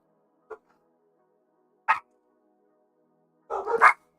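A dog gives three short, separate barks near the microphone against a quiet background, and the last bark is a longer double yap.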